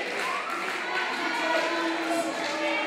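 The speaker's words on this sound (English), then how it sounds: "I believe the crowd is chanting for Ace." A wrestling arena crowd chants and cheers for Ace during a ladder match, a steady dense roar of many voices at moderate distance with no clear pauses.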